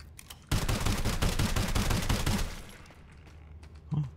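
An automatic weapon fires in the video game Sulfur, a rapid burst of about two seconds of evenly spaced loud shots, then a tail and a few scattered quiet clicks.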